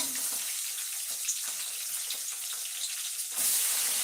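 Onions, curry leaves and green chilli frying in hot oil, a steady broadband sizzle running throughout, close and fairly loud, growing brighter and louder near the end.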